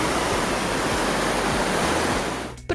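An artificial waterfall fed by the Kamenka river's hydraulic tunnel at an old bauxite mine roars loud and close as a constant, dense rush, cutting off abruptly near the end.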